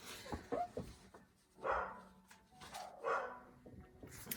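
A dog barks in short bursts, a few sharp yaps spaced apart, fairly close, with some background rustling between them.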